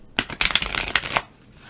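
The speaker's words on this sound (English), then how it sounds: "I'm shuffling them underneath" A deck of oracle cards shuffled by hand underneath, a short close run of papery riffling flicks in quick bursts that stops abruptly, with no one talking.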